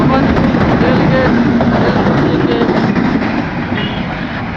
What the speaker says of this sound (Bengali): ঢাকা কমলাপুর রেল স্টেশন থেকে ছেড়ে আসা নীলসাগর এক্সপ্রেস ট্রেনখানা এখন ভবানীপুরের উদ্দেশ্যে ঢুকে গেল